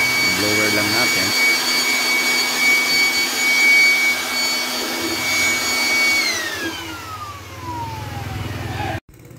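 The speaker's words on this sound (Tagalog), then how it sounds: "i-blower lang natin para maalis yung tubig na konti dyan sa ating filter" A blower blasts air over a washed split-type aircon filter with a loud, steady whine and rushing hiss. It then winds down with a falling pitch and cuts off near the end.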